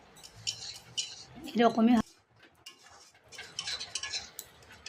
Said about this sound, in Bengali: দিয়ে ভালো করে একসঙ্গে নেড়ে নেব